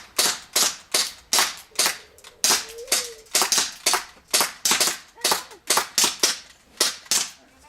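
An airsoft gun firing during an outdoor zombie game, a loud, close string of sharp snapping shots in a steady, slightly uneven rhythm, about two per second throughout, with no talking.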